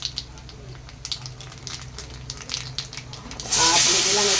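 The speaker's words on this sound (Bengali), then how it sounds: "এখন দিয়ে দিলাম তেলে কালো জিরা একটু ফোড়ন" Nigella seeds dropped into hot oil for tempering, after fish has been fried in the same pan, burst into a loud, steady sizzle in the last second, following quieter kitchen clatter and faint hiss.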